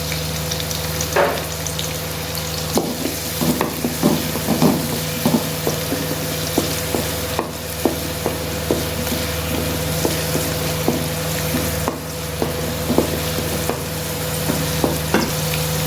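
Onions sizzling in about two spoons of hot oil for egg fried rice, a steady close frying hiss broken by frequent sharp stirring clicks and scrapes of a spoon against the pan, with no talking.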